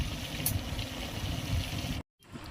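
Prawns frying in hot oil in a pan, a steady close sizzle and crackle that cuts out briefly near the end before resuming.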